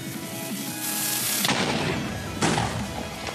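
A Mutant Creeper exploding in Minecraft, with a game music bed and two sharp blasts that split the air with crackling noise, the second one slightly louder, and no talking.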